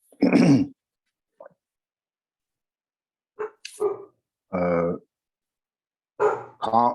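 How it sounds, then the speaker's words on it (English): A dog barks several times at a distance from the microphone, in separate short yelps and deeper barks spread across the clip with silence between them. "dog bark"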